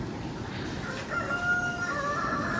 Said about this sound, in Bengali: মুরগি ডাকছে